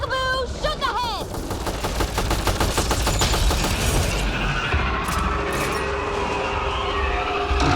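Rapid automatic gunfire rattles through a Mass Effect Andromeda firefight against remnant enemies, dense repeated shots over game effects and a brief synthetic chirp at the start, loud and continuous throughout.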